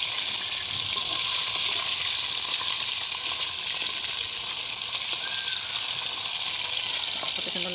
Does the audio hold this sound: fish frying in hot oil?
yes